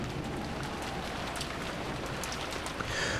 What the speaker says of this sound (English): The rain poured down as though it had been saving up for this moment.